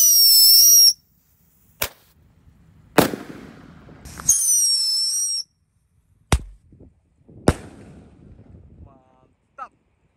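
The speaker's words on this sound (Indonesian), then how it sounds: "Ini dia mercon Happy Power 1 kardus." A whole box of Happy Power launcher firecrackers fires in sequence: shrill whistling rises followed by several sharp, loud bangs spaced irregularly apart, with brief quiet gaps between blasts.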